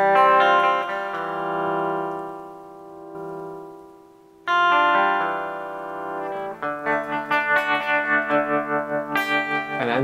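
Sustained guitar notes pulse with a wavering sine-wave tremolo whose speed is swept by a pedal, slow and smooth at first, then quickening into a faster throb.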